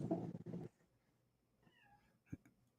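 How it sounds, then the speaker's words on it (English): A cat meows a couple of times, faint and fairly close, after a brief burst of loud noise at the start. "there's a cat bugging me"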